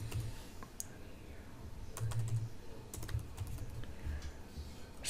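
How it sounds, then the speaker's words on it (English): Close, quiet typing of numbers on a computer keyboard, irregular light key clicks in short clusters over a low background hum, with no talking. "So I can type them in as shown."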